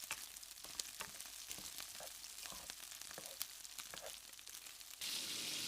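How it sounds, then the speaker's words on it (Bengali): Finely chopped potatoes frying in oil with a little salt, a close, continuous sizzle with scattered crackling pops, growing a touch louder and brighter near the end. "ওই তেলের মধ্যেই আলু কুচি কুচি করে কেটে নিয়েছি, সেগুলো ভেজে নেব।"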